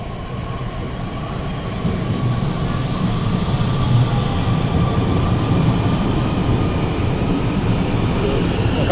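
An İzmir metro train rumbles steadily and grows louder as it pulls into the station, a continuous roar with a faint high whine.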